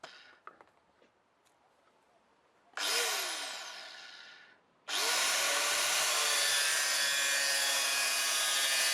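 A power tool cuts 1.5-millimetre-deep grooves into sheet metal: a brief whining burst that tapers off, a short pause, then a loud, sustained, harsh grinding that runs to the end.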